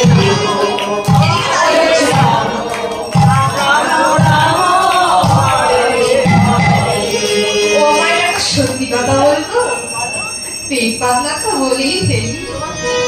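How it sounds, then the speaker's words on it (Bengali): Women in a devotional kirtan gathering clap along in a steady, brisk rhythm, close and loud, under chanting voices and a lively crowd with a bell-like ring. "এই যে মায়েরা তোমরা যে তালি দিচ্ছ না, তালটা মুড়ি ভাজার মতন হয়ে যাচ্ছে।"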